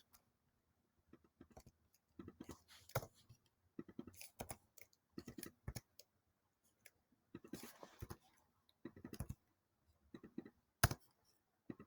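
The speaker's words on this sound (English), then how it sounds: "Typing my maiden name." Quiet, close keystrokes on a computer keyboard come in short irregular bursts of sharp clicks separated by silent pauses, with no voices.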